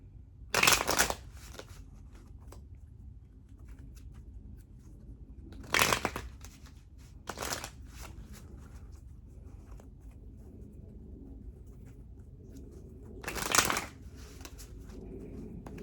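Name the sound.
shuffling tarot cards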